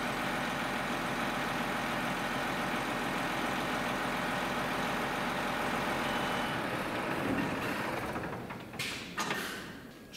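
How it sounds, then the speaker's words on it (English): Putzmeister iONTRON hybrid concrete pump truck running with its power takeoff engaged, a loud, steady, close engine drone that holds for about seven seconds, then eases off and turns uneven with a few brief knocks near the end. "The engine is running, the machine is ready for operation, the power takeoff is engaged."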